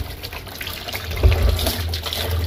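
Water runs from a pipe into a drum in a garden, a steady rushing and splashing flow with low gurgling, close and continuous, no talk.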